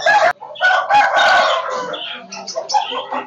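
An Aseel rooster at a Faisalabad bird market crows loudly and close by, one long drawn-out call broken into bursts, with clucking and other fowl noise around it.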